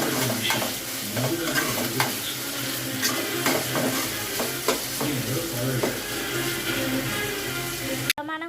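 Curry in a pan with onions, brinjal and ginger garlic paste being stirred, a continuous loud sizzle under repeated spoon scrapes and knocks against the pan, ending in a brief sharp clatter.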